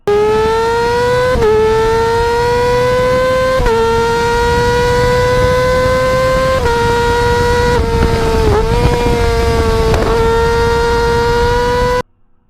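A loud, sustained motorcycle engine drone with a strong steady pitch that rises slightly and dips between gear-like shifts, running continuously before cutting off abruptly.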